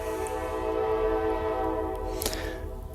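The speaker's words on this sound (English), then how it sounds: "that's an amazing amount of horn honks there from that train" A passing train sounds its horn in a long sustained blast of steady chord tones, loud and close, before a brief sharp burst near the end as the horn cuts off; no voices.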